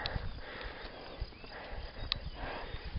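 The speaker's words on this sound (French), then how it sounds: "Oh, il est beau ce cheval." A horse's hooves clip-clop in an irregular walking rhythm over a steady, noisy outdoor background, with faint sniffing and scattered sharper knocks, fairly quiet and without speech.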